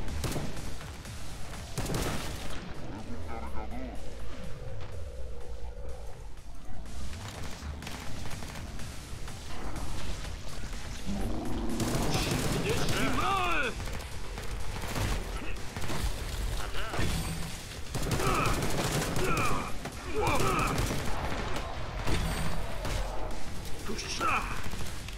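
Gunfire in the co-op zombie shooter Killing Floor 2, set in catacombs, with rapid bursts and shots running through the whole stretch under frequent excited speech and game effects.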